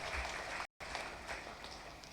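A church congregation applauding in thanks during a Tamil Catholic novena Mass for Saint Anthony, steady faint-to-moderate crowd clapping with a brief dropout, continuing evenly throughout.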